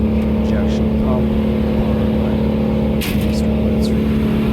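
An old-school Vermeer wood chipper engine with mechanical linkage to its fuel injection pump, suffering lost throttle response and unable to rev up, drones at a steady, unchanging pitch nearby. Faint voices sit beneath it.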